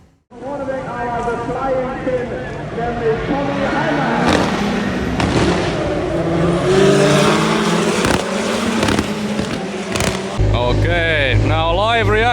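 Rallycross race car at Estering, Germany, accelerating hard at full throttle, a loud close engine roar with rising and shifting pitch throughout, and a voice speaking over it at times.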